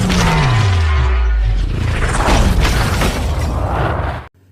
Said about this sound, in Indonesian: Kapten Han langsung menembakkan meriam itu menghantam gedung Kapten Gromov.